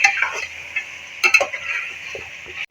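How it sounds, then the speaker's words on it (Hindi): Garlic-ginger paste frying with mutton in a pan gives a loud, steady sizzle, broken by scraping stirs of the pan and a brief clatter near the middle, with no talking. "ये हम शामिल करेंगे और इनको भी हम गोश्त के साथ ही फ्राई कर लेते हैं"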